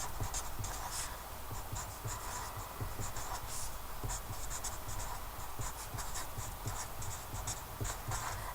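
A pen or pencil writing out a math expression, with quick scratchy strokes repeating steadily and close up, no talking.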